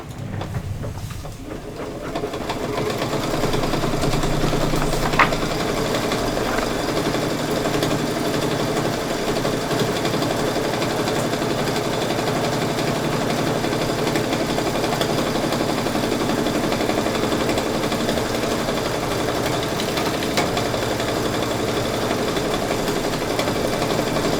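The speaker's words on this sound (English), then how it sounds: "I'm just going to press go and do another straight stitch for the whatever detail it is." A sewing machine runs a long, steady straight stitch, a continuous close mechanical whir and hum that holds unbroken throughout.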